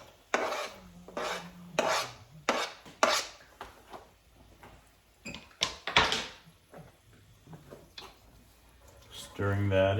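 Onions stirred in a pan with cherry tomatoes to follow, scraping and clattering utensil strokes in uneven bursts, close by, with a sizzle rising at the end.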